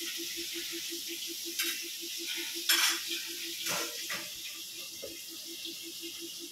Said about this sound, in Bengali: কাঁচা লঙ্কা মাছগুলো ভেজে ঝোল করে নেব